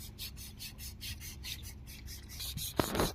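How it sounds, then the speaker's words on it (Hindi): Sandpaper rubbed by hand across a workpiece in steady back-and-forth strokes, a rhythmic rasping scratch repeating about every quarter second, close and clear, with a louder scuff near the end. "फिर इस पे भी रेगमाल सैंड पेपर लगाया जाएगा"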